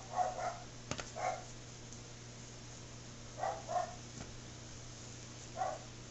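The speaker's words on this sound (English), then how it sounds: "Ah, the dog." A dog barks a few times in short, spaced bursts at a moderate distance, over a steady background hum with no talk.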